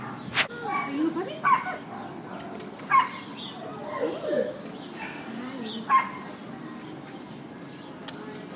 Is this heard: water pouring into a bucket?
no